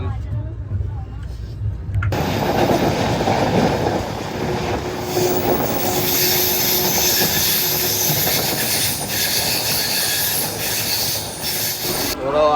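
A train sits on railway tracks during a ten-minute halt, with a steady rumble and faint rail noise filling the background while people talk nearby.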